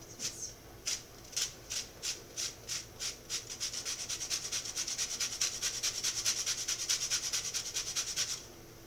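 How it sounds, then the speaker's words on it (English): Lemons being zested straight into a bowl for a lemon chiffon cake, a close, rhythmic scraping against the grater that starts in separate strokes and speeds into a fast steady rasp. "And then just zest away."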